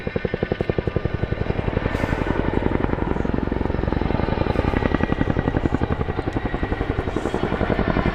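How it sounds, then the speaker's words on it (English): RAF Chinook twin-rotor helicopter flying an airshow display manoeuvre at Cosford, a loud, rapid rhythmic blade thudding that continues steadily throughout. "demonstrate the Chinook's astonishing power-to-weight ratio"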